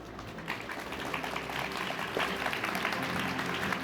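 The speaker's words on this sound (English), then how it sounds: "one more big round of applause for our speakers" Conference audience applauding speakers at a venture capital event in Japan, a fairly faint, even patter of many hands clapping across the hall.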